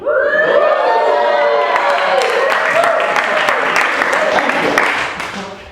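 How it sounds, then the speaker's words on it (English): A stand-up comedy audience applauds with scattered clapping under loud cheering and whoops, gradually fading toward the end. "Polite applause from the Roosevelt University alumni."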